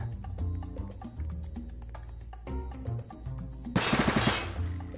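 Gunfire in the Roblox Oil Warfare Tycoon game, rapid repeated shots and thumps over a low rumbling backdrop, building to a louder, brighter burst near the end.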